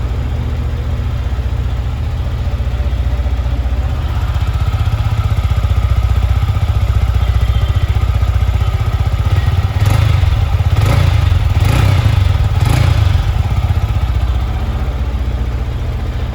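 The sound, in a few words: motorcycle engine cranking and idling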